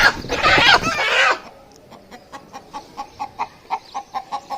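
A country chicken at home clucks in a series of short, evenly spaced clucks close to the microphone, following a brief burst of louder, harsher noise at the start.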